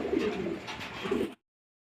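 Red Danish pigeons in a loft, soft throaty cooing close by, one continuous phrase lasting just over a second before cutting off.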